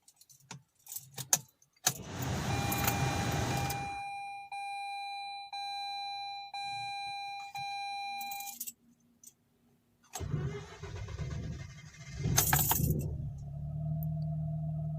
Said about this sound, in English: Started, idling pretty good.